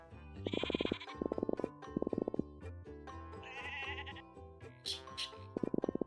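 Goats in the survival crafting game Miniland Adventure bleat in repeated short, stuttering calls over a steady looping game-music backdrop, fairly loud and without talk.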